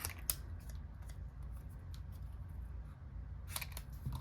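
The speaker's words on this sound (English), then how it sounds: "So I'm just going to go ahead and cut this end" Scissors snip through cardstock for a Stampin' Up wreath card, with a few sharp cuts near the start and another cluster near the end, close and quiet against a soft background hum.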